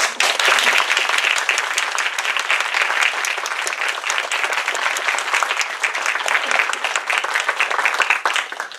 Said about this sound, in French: on va entendre les applaudissements qu'on t'adresse.